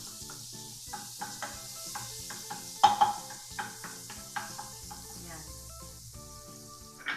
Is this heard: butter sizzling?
yes